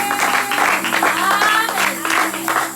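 A church congregation applauding to acclaim the Lord, steady clapping from a crowd mixed with voices and a held musical tone behind.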